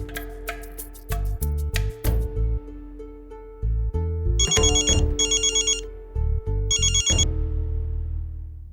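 A phone ringtone plays in repeated electronic bursts, loud and close, alternating with a tonal melody pattern and no talk.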